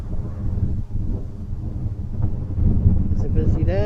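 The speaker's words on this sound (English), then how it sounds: "It's a busy day. It's a windy day." Wind buffets the microphone on a gusty morning at Philadelphia's airport, making a heavy, continuous low rumble that swells and dips, with a faint rising tone near the end.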